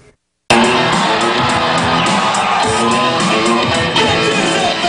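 Loud, continuous cheering and yelling from an excited crowd at a high school airband competition, with a dense roar that bursts in after a brief silence and holds steady throughout.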